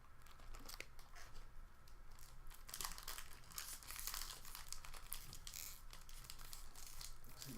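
Plastic wrappers on 1990-91 Skybox basketball card packs crinkle and tear continuously, with dense crackling and rustling at close range, fairly quiet and without talk.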